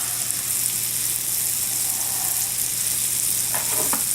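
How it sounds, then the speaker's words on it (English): Oil and butter sizzle together in a pan, a steady, loud frying hiss that holds evenly throughout with a couple of faint clinks near the end and no one speaking. "A little bit of oil and butter together."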